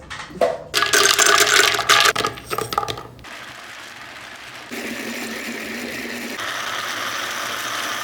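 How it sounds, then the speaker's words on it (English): A blender grinds rice and water with a harsh rattling churn, then settles into a steady motor whir that steps up in pitch twice. "Leave a little bit of water, and then we're going to blend this together."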